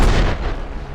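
A satchel charge blows up in the Fallout: New Vegas game, a loud close blast with a sharp onset that rolls off into a fading rumble over about a second.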